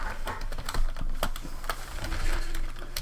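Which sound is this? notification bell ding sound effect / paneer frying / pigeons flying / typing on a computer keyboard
typing on a computer keyboard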